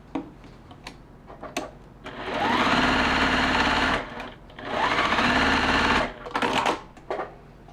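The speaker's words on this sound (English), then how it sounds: "So let's sew these two together." A sewing machine stitches quilt pieces for a holiday pillow, running in two loud, steady whirring bursts of a couple of seconds each, separated by brief pauses with small clicks and handling noises.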